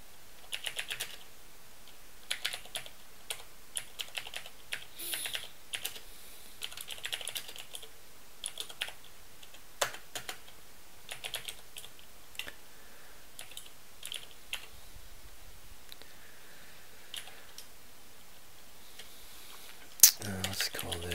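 Quick, irregular keystroke clicks on a computer keyboard while someone codes, fairly quiet and close, running steadily throughout with a sharper clack near the end.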